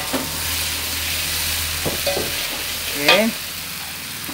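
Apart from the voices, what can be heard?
stir-frying chopped boiled chicken liver in oyster sauce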